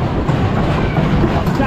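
Roller coaster train on the Stampida wooden racing coaster at PortAventura World running along the track, a loud continuous rumbling roar with rattling clatter.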